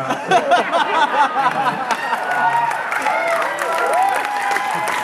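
Audience at an Aliens cast Q&A in Knoxville claps and laughs while people keep talking over it, a mid-level clatter of hands mixed with voices.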